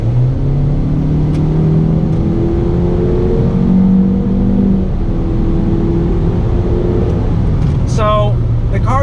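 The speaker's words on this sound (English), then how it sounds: "I'm going to get on the loud pedal and see how that CVT does its business." A 2019 Honda Civic sedan with a CVT accelerates hard, its engine holding a steady, rising drone rather than stepping through gear changes, loud inside the cabin under a voice talking.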